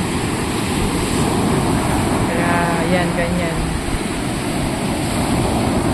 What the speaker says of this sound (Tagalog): Sobrang lakas po ng alon.